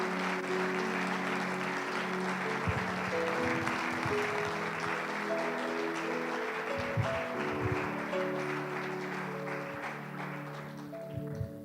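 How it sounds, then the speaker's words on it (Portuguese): Congregation applause at a church service, sustained clapping from a crowd under a held musical chord, steady and moderately loud before easing slightly at the end. "Por favor? Palmas."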